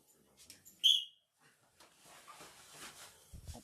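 One short, sharp referee's whistle blast starts a strongman event at England's Strongest Man U90 2024, loud and alone, followed by faint crowd and movement noise.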